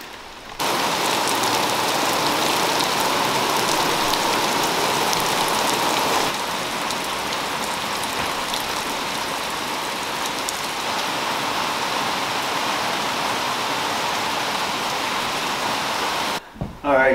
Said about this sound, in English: I got all the difficult cuts done, and got onto an open section, and there's the rain.